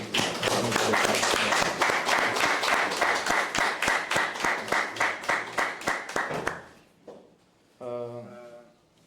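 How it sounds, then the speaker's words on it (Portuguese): Steady applause from an audience, a dense patter of many hands that fades out, followed by a brief burst of voices. "gostaria de pedir uma pequena salva de palmas em honra ao nosso professor"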